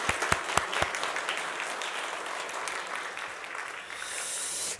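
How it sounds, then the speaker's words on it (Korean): Church congregation clapping together in a sustained, fairly loud burst of applause, a few sharp individual claps standing out near the start before the sound evens into a steady wash. "어른들이 크게 박수로 격려했으면"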